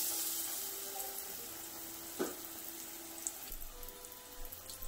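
Potato bondas frying in hot oil give a quiet, steady sizzle and bubbling hiss with a soft clink of turning near the middle, heard alone without talk.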